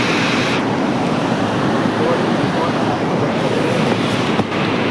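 Broad, steady rushing of a swollen river at Kunti Hole, surging and splashing continuously and fairly loud throughout, with no pauses and no clear voices.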